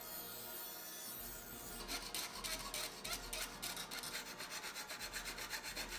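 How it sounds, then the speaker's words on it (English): Hand planer shaving wood on a workbench, rhythmic rasping strokes repeating steadily after a quieter opening, close and fairly loud with no voices. "I love using the planer and making sawdust fly."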